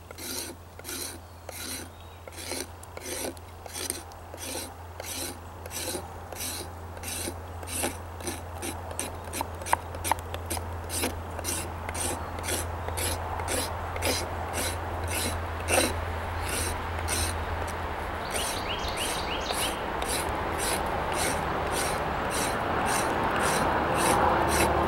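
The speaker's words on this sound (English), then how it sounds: "what I do is I just take the edge of the knife and just scrape" A knife edge scraping along a wooden axe handle during bushcraft carving makes a long series of rhythmic rasping strokes, close and fairly loud. The strokes quicken and blur into denser scraping toward the end, and no one speaks.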